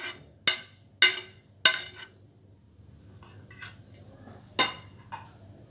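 A spoon clinks against a bowl while veg momo filling of finely chopped onion and green chili is mixed: three sharp, close clinks in quick succession, then softer scraping and two more clinks, with no talking.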